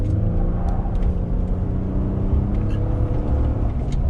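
A 3.5 EcoBoost pickup truck with its resonator deleted roars loudly as it accelerates, a deep rumbling exhaust drone with rising revs, heard up close.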